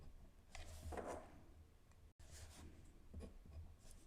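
Fountain pen loaded with bright lemony yellow ink scratching across paper, soft close rubbing strokes in two bursts separated by a brief silent gap, fairly quiet with no talking.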